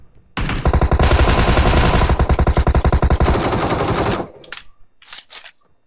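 A long, rapid automatic burst of video game gunfire, steady and loud for several seconds, then a few scattered single shots once it stops.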